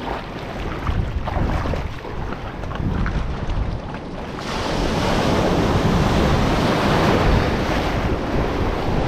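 Rough sea surf breaking at a Moroccan shore, where a rubber inflatable boat sets out to check fishing nets. A steady, close roar of waves and wind buffeting the microphone swells louder and fuller about halfway through, with no voices.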